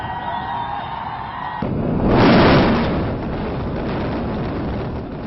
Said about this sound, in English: Here's a look at the long shot of the moment the explosion was triggered.